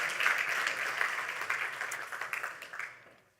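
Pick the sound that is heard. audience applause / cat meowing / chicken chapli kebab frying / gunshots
audience applause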